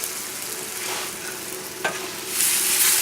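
Shrimps sizzle loudly in a pan with heavy cream while being stirred, a dense, close, continuous frying hiss with a brief scrape of the utensil.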